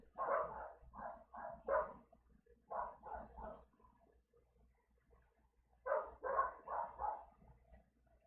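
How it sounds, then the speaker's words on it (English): A dog barks in three bursts of rapid repeated barks separated by short pauses, faint and somewhat distant, with no talk. "dog barking again"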